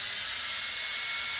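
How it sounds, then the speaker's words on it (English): A power drill boring small pilot holes into a piece of scrap wood for a jewelry holder, heard as one steady high whine lasting the whole short moment, close by with no talk. "I'm going to drill a couple holes over here."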